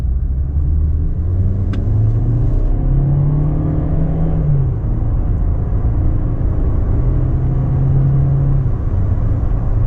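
A 2025 Volkswagen Taos S pulls away from a stop, heard from inside as a steady low engine rumble with gear-change rises and falls in pitch over road noise.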